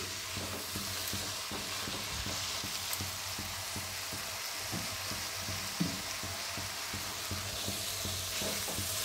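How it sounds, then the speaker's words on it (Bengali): Banana flower being sautéed and stirred in a pan for a Bengali coconut mocha ghonto, a steady close sizzle with frequent scraping stir strokes, heard alone. "মোচাটা একটু কষিয়ে নিই।"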